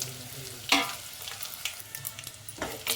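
Crushed garlic, one or two dried chillies and curry leaves sizzle in oil for coconut rasam, a close steady frying hiss broken by a few sharp stirring scrapes.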